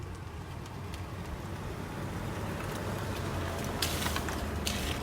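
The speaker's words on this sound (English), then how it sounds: "Can hear the fans warming up." Cooling fans on a public ChargePlace Scotland EV charger whir up as a Jaguar I-Pace begins charging, a steady broadband rushing hum that holds even and slightly swells, with faint clicks near the end.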